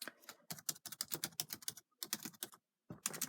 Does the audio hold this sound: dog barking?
no